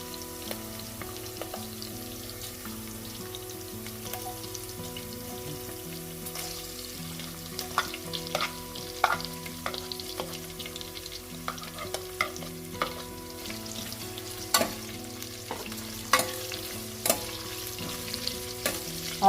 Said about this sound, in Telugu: ఆనియన్స్ కాస్త లైట్ బ్రౌన్ కలర్ వచ్చేదాకా ఫ్రై చేసేసుకోండి.